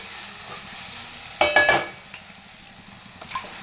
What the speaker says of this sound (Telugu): ఇప్పుడు ఇందులో మనం చికెన్ వేసేద్దాం